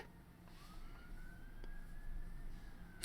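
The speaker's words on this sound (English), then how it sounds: "That police car's been a long time going down the road." A police car siren wails steadily as the vehicle drives down the road, a single long rising tone carrying at moderate distance over low traffic rumble.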